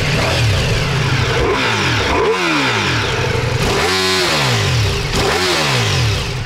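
A Ducati Multistrada V4S motorcycle engine in Urban riding mode runs close and loud, its steady running note broken by three sharp throttle blips that rise and fall.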